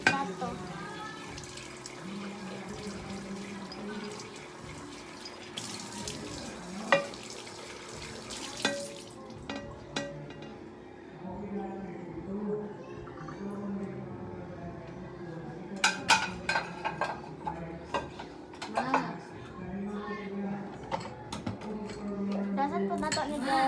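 Dishes being washed at a sink under a running tap, with steady water flow, clinks of plates and cutlery, and people talking over the running water.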